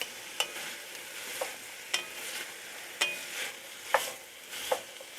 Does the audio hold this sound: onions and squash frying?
yes